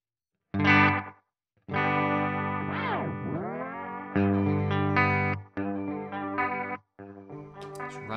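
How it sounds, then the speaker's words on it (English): A heavily processed instrument tone through a Hologram Electronics Chroma Console delay and reverb pedal with degradation applied wobbles and warps in pitch, with smeared, unstable repeats and gritty distortion across several sustained phrases, loud and close. "We're going to get a more unstable, degraded sound."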